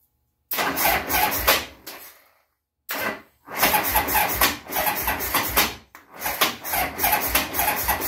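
A 1975 Harley-Davidson Sportster engine with the choke on cranks and sputters to life in rough, uneven bursts, cutting out briefly between attempts before catching again, loud and close.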